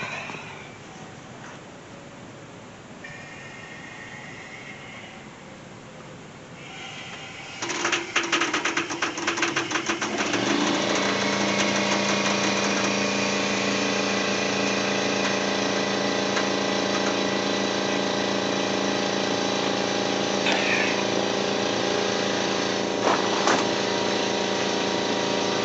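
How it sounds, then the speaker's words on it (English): A 2002 Toyota 4Runner is jacked up before its fuel tank is dropped for a fuel pump replacement. After a quieter stretch, a loud, steady mechanical whirring and pumping starts and keeps going, with no talking. "we're going to jack up the vehicle."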